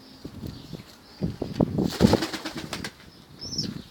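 Pet birds flap their wings in short bursts close by, a cluster of fluttering strokes in the middle with faint soft calls and rustling around them, no talking.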